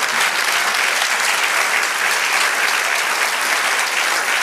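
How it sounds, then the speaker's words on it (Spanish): A congregation at a church service breaks into steady, loud applause for the Lord, a dense continuous wash of clapping with no voices over it. "Dale aplauso al Señor"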